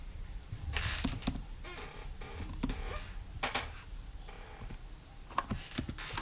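Close, quick typing on a computer keyboard, bursts of key clicks with short pauses and sharper taps scattered through, no voices.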